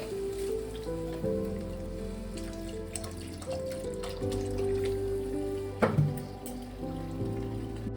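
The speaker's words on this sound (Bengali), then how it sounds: "এবার আমি জল দিয়ে দেবো" Water pours into a pan of potatoes frying in oil with spices for a traditional Bengali prawn-fritter curry, a steady hissing, splashing wash that swells briefly near the end, close and without talk.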